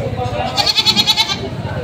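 A goat at a livestock sale in Padre Garcia, Batangas gives a loud, wavering bleat close by, with people talking in the background.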